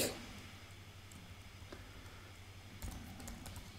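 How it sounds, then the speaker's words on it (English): Typing on a computer keyboard, faint light key taps scattered across a quiet room with a low steady hum underneath, growing a little busier toward the end. "Just have to practice typing here."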